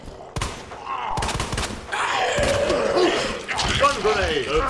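A grenade fired from a gun in the video game Resident Evil 2: sharp shot and blast sounds with rumbling game noise, loud and close, with a voice exclaiming over it.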